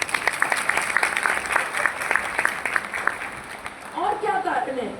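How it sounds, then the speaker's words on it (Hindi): Audience applause in a hall during a talk about Modicare, a dense patter of many hands clapping for several seconds that fades out as a voice begins speaking. "एक बार तालियां हो जाए।"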